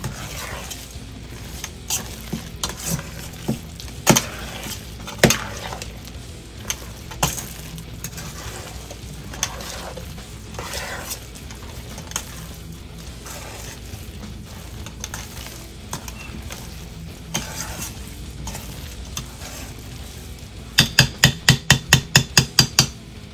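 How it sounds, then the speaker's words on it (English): Spoon scraping and knocking in a bowl while stirring chipotle chicken filling for puff pastry, with irregular clinks throughout and a rapid burst of taps near the end, alone without talk. "And then I am going to mix it all in."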